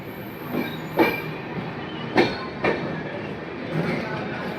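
Bhagyanagar Express (17233) arriving at Ramagundam station, rolling rumble punctuated by several sharp clanks of wheels over rail joints, fairly close and loud.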